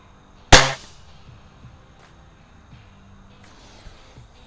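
A Crosman Optimus .177 break-barrel pellet rifle, loaded with heavy 8.18-grain pellets and fired in a backyard, gives a single sharp, close crack that decays quickly into near silence.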